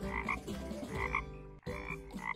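A frog croaks as a sound effect in a children's jungle story, with three quick, resonant croaking bursts in a steady rhythm, close and alone without speech.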